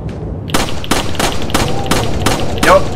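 Steady 9mm handgun fire in the video game Resident Evil 4: six or seven sharp, loud shots at an even pace roughly every third of a second, over a busy background of game sound.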